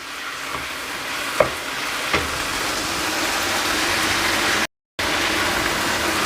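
Liver (kaleji) fries on high heat in an uncovered pan with a steady, close, hissing sizzle, a few soft clicks, and one brief cut-out near the end.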